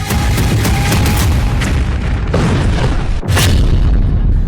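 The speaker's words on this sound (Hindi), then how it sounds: "इजराइल के धमाकों को देख डर गए ट्रंप।" Loud, continuous rumble of explosions from Israeli bombing in Lebanon, with a few sharper bursts and a sudden drop before the roar resumes, in news footage without speech.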